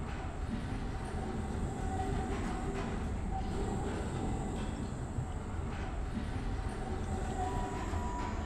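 A tram in the video game Abiotic Factor rolls along with a continuous, loud rumbling clatter of rail travel that holds steady throughout, with no voices over it.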